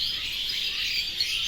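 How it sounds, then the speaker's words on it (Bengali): Birds chirp and twitter in a continuous dawn chorus, a steady, fairly distant wash of calls with a faint insect-like buzz beneath and no talking. "সাইলেন্টলি খালি পাখির ডাকগুলো শুনব"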